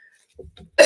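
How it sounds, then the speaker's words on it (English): Someone with a sore throat lets out a couple of soft, throaty coughs, then one sharp, louder cough right at the end, close to the microphone. "I'm sorry for coughing and carrying on, but my throat is still sore"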